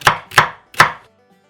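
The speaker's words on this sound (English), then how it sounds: "Rough chops is all you need to do." Three sharp knife chops on a cutting board while rough-chopping vegetables for red pepper soup and vegetable stock, evenly spaced and close, then quiet.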